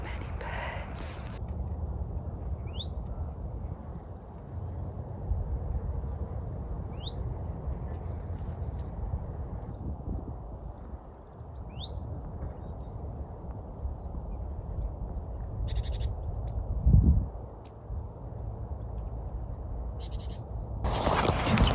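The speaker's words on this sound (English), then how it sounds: "There's so many birds." Many small birds chirp and call around a bird box in trees outside a house, brief high tweets scattered throughout over steady outdoor background noise, with a louder rustle near the end.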